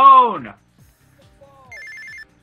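A telephone rings in an anime with a short, bright electronic trill that repeats in quick pulses, after a voice shouts at the start, fairly clear against an otherwise quiet background.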